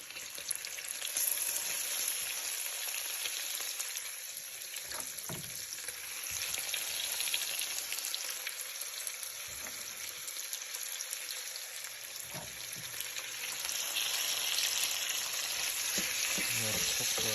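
Peppers sauteing with bacon in a pan: a continuous bright sizzle and crackle lasting throughout, with brief stirring scrapes and a few soft knocks now and then, fairly close, no speech.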